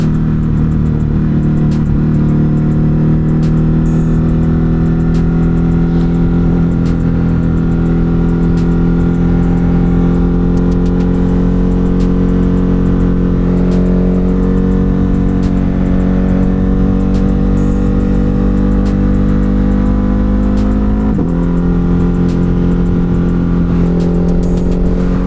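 Ducati Hypermotard 950 RVE motorcycle ridden on an evening road, its engine droning steadily and loudly close-up throughout, with a brief dip in pitch near the end as the rider shifts or eases off.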